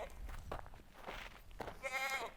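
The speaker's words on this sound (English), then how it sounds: "I'll show you our milk goats. Now right now you can hear them." Milk goats bleat in a temporary pen on a Montana mountain homestead, faint and somewhat distant, with scattered rustling and one wavering bleat standing out near the end.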